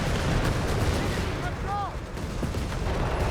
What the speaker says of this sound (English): mortar firing down